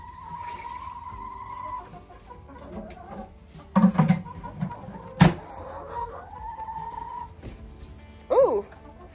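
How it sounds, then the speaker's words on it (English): Chickens cluck on a farm in short, scattered calls, with a few louder, sharper squawks standing out over a quiet outdoor background. "Oh, chasing the chicken."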